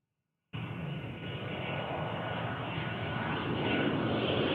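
An airplane on the runway at Ted Stevens Anchorage International Airport sends out a steady, powerful engine roar. The sound cuts in abruptly after a brief silence and then holds loud and constant, with no voices.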